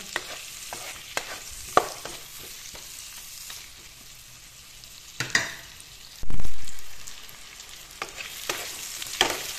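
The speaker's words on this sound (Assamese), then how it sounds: "আলুখিনি মই 1 মিনিট মান সময় এনেদৰে ভাজিলো" Potatoes frying in a pan for a fish curry, with a steady low sizzle and scattered stirring clicks, then a sudden loud hissing burst that gradually dies down.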